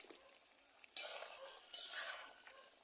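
Chicken with yam cooks in a pot over a brick stove fuelled by dry leaves, giving a close sizzling hiss with stirring scrapes that swell in two bursts.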